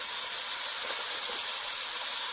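Chillies frying in a pan for vegetable pulao, a brief, even hiss of close sizzling oil with no voices over it.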